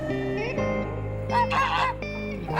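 A goose honks repeatedly at close range, loud nasal calls in short bursts with brief gaps between them, heard on a farm at a goose's feeding time.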